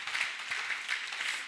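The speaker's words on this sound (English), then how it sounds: "Clap again because the clap no reach." An audience claps again at a business talk, a steady wash of many hands at moderate distance, continuous and fairly soft over the short stretch with no voices.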